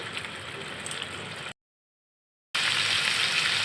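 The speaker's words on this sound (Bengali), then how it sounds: "এবার আমি একে একে ভেজে রাখা কই মাছগুলো দিয়ে দিব" Fried koi fish going into sizzling spiced masala in a pan: a steady close frying hiss that cuts to a second of silence, then returns louder and brighter, with no talking.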